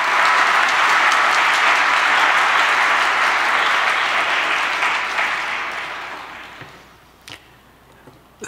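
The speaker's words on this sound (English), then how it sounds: "Please join me in warmly welcoming him." An audience applauds to welcome director Benoy Behl before a film screening, a broad sustained wash of clapping that holds loud for several seconds, then thins and fades out, leaving a few scattered claps.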